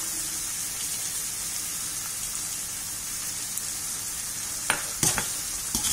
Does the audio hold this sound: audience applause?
no